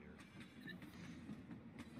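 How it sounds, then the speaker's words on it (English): A train arrives in a Roblox Poppy Playtime obby video game, giving a faint, steady rumble with a light rhythmic clatter of wheels throughout. "Looks like it's time for the train to arrive."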